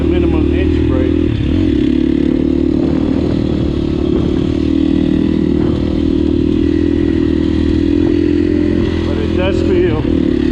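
KTM 350 SXF dirt bike engine started in gear, a loud close steady four-stroke idle running throughout with clattering mechanical noise and a voice speaking over it.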